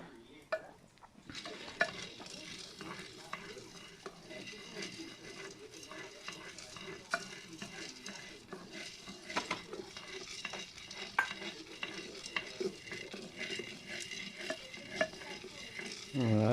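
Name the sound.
stirring coffee beans roasting in a hot pan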